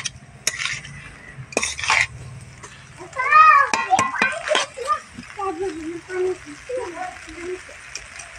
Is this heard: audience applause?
no